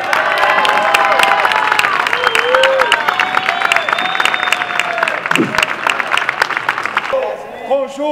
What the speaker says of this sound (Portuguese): Eu quero uma salva de palmas bem forte para a Lucia.